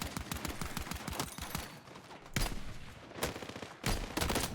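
Gunfire in the video game Battlefield 6: rapid bursts of automatic shots crackling in quick succession, with heavier blasts breaking in at intervals, loud and busy, no talking.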